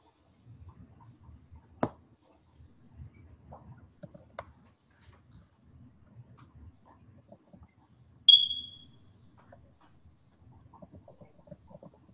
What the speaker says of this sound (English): Who's got the smoke detector whose battery is about to die?